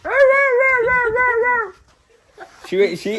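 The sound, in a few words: dog whining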